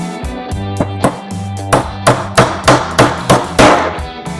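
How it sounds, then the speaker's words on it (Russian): A StarTool Master wooden-handled hammer from the 2001 series, made for metalwork, joinery and carpentry, strikes about a dozen sharp, loud blows in a steady rhythm over a sustained tonal background. "Молотки с деревянной рукояткой StarTool Master,"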